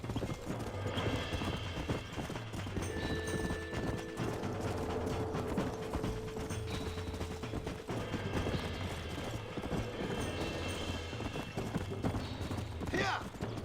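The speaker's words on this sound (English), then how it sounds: "Nossa, outro cavalo selvagem." A wild horse in Red Dead Redemption trots with steady close clip-clop hoofbeats, joined by creaking tack and a whinny near the end, while people talk over it.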